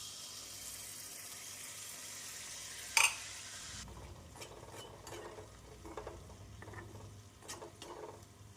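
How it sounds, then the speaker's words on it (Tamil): Malpua batter sizzles in hot oil, a steady close frying hiss followed by lighter scraping and stirring noises in the pan. "நாம் அனைத்து மாவையும் பொரித்து எடுத்து விடலாம்."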